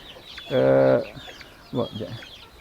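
Janaka breed chickens on a small home farm cluck nearby, a drawn-out tonal squawk followed by a shorter burst of clucks against a quiet background.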